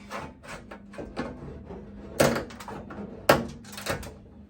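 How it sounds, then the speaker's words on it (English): A vent window frame tugged loose from the door frame of a Ford Bronco II: close creaking and rubbing with a series of scrapes and two sharp clunks as the part breaks free. "give it a good solid tug off of the door frame"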